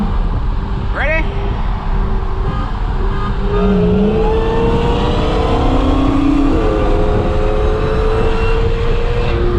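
An SRT Hellcat Charger accelerates hard during a street race, its engine a loud, steady roar with climbing rev tones heard from inside amid heavy wind noise, while people talk over it.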